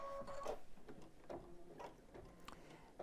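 An in-the-hoop embroidery machine stitches the leg outline of a dog softie through fabric placed right sides together, giving a steady, close mechanical whirring with rhythmic clicks and brief higher tones over about three seconds.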